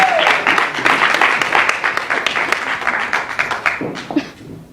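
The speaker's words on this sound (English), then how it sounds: "Give her another round of applause." Loud audience applause at a charity fundraiser talent show, many hands clapping together, fading toward the end as the clapping thins out.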